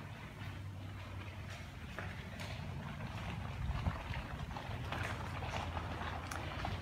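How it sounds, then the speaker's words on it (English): Water lapping against a new seawall at a waterfront home, a soft continuous wash with gentle swells and faint rustling, steady and moderately quiet with no talking. "You can hear the water lapping on the seawall that is very new also."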